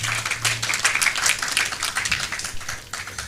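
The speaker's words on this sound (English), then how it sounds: "can we give them a big round of applause?" Audience applause at a general meeting: many hands clapping in a dense, uneven patter at moderate loudness, with a low steady hum underneath and no talking.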